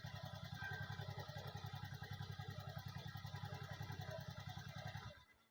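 A Honda Beat ESP scooter with a stalling fault and a lit MIL warning light runs with a steady, close putter, then cuts out abruptly near the end.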